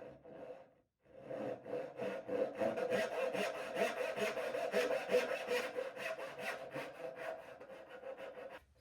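A hand saw cuts a walnut dovetail with steady back-and-forth strokes, the rasping rhythm continuous and close after a brief pause at the start.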